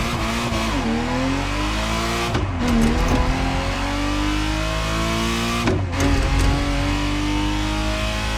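Ferrari Testarossa in The Crew Motorfest racing game pulls hard through the gears, its engine rising in long climbing sweeps broken by two sharp shift dips, loud and close with faint tire squeal.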